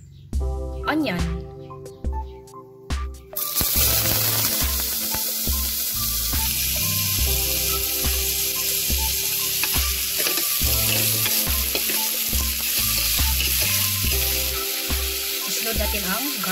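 Onion hits a hot pan and sizzles loudly with a steady hiss while being sautéed, under a person speaking and a rhythmic pulsing of background music.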